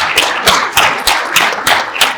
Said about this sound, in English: we need to give a huge round of applause to our MOS team